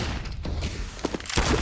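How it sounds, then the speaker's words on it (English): Flashbang grenades going off in a Counter-Strike match on Dust 2, several sharp bangs in quick succession over a short stretch of steady game noise. "That is so many flashbangs"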